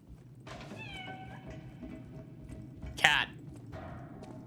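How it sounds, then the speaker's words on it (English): A cat in the video game Lies of P gives a drawn-out meow, then a short sharp sound follows, heard over low game ambience. "Aw, kitty."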